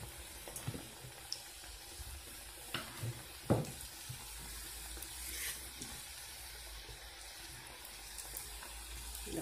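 Griwech, a traditional Algerian pastry, fries in hot oil with a soft, steady sizzle, broken by a few clicks and clatters of a utensil stirring and a brief splash of water near the middle.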